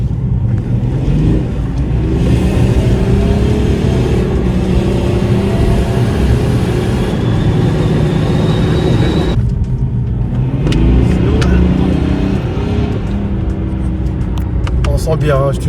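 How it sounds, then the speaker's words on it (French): A tuned Stage 2+ BMW 330d diesel pulls in third gear with a steady, loud engine drone and road roar, easing briefly around nine seconds before building again, while people talk over it inside the car. "Troisième vitesse, petite accélération."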